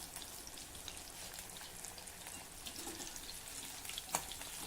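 Sweet corn fritters (bhaji) fry in hot oil with a steady, fairly faint crackling sizzle, and no one speaks.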